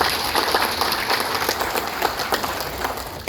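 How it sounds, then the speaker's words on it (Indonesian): An audience at a company gathering applauds steadily, with dense, even clapping throughout the short burst. "Tepuk tangan untuk PTBS"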